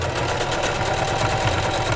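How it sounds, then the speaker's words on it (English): Heavy-duty Singer sewing machine stitching cotton fabric for a doll dress, a steady fast mechanical whir with rapid even needle ticks, close and continuous with no talk. "I use a heavy duty singer for this"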